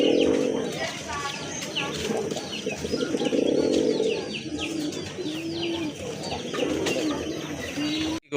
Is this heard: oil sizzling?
no